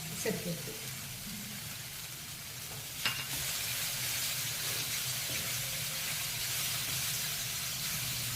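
Grated coconut is stirred into a vegetable curry of cluster beans frying in a pan, giving a steady close sizzle with soft scraping and one sharper clink partway through.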